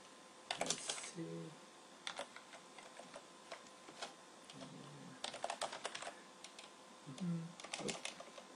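Quiet typing on a computer keyboard, irregular clusters of light key clicks with short gaps, close and soft, no talk over it.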